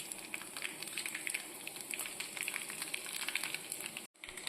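Mustard seeds and dried red chillies fry in hot oil for a tempering, a close, steady sizzle studded with rapid tiny pops and crackles that cuts out abruptly near the end.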